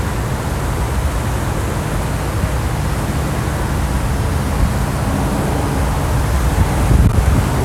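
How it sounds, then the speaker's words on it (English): Strong wind buffets an outdoor microphone, a loud, constant roaring rumble with broad hiss that swells slightly near the end, and no voices over it. "It's kind of windy."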